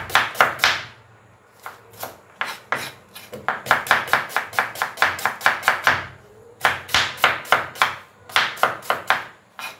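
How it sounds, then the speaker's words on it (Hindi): Onions are finely chopped with a knife on a board in quick bursts of sharp, close taps, with short pauses between runs of strokes. "तो अभी हम यहाँ पे हम काटेंगे ऑनियन"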